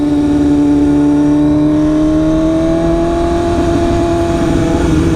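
A 2016 BMW S1000RR Premium Package motorcycle cruises along a road, its engine a loud, constant close drone whose pitch rises gently, mixed with wind rush.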